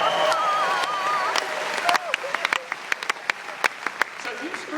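Seminar audience applauding on internet money-making, a dense steady clapping wash with sharper individual claps standing out toward the end, while someone talks over it.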